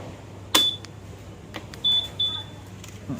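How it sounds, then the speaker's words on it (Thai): A few short electronic beeps chirp at high pitch from a Yamaha Grand Filano scooter key fob over faint background hum, one sharp click, then two quick double beeps. "ปิดตัวชัตเตอร์นี้แล้วก็จะ มีเสียงติ๊ดติดด้วยนะ"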